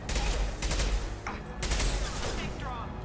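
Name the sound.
gunfire from a gun in the video game Mass Effect 2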